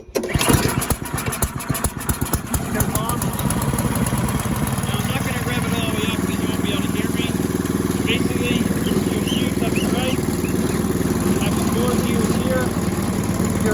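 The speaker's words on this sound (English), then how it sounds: "Okay, so I brought it outside just to show you how to operate it. Again, we're gonna start it up again." An Ariens 11528 snow thrower engine, primed and choked at half throttle outdoors, sputters through a rapid pulsing start over the first few seconds, then settles into a loud, steady running drone.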